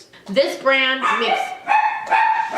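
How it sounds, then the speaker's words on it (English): A Chihuahua and a Min Pin bark and yip in short bursts under a woman's speech, the barking close and overlapping her voice. "So if you hear barking in the background"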